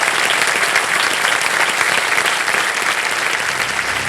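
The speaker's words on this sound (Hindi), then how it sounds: "जोरदार तालियां बज जाए इनके लिए।" Studio audience applauding on a television quiz game show, dense sustained clapping from a large crowd, loud and steady throughout before easing slightly at the end.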